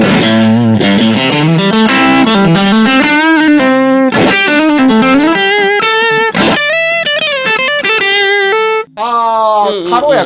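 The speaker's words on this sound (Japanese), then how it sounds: "一番左のゲインっていうところを回していくとだんだんドライブだとかディストーションっていう形で歪みが上がってくるんですけども、真ん中ぐらいクランチ" A budget Playtech electric guitar, priced just under 6,000 yen, is played with its gain knob set midway to a light crunch distortion. Loud, sustained overdriven notes and chords run continuously, with a brief drop near the end.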